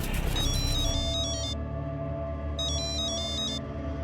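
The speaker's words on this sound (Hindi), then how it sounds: "बस पर उस दिन हमको फोन आया साहब" An electronic telephone ring trills in two bursts separated by a pause, steady and fairly loud over a low background hum.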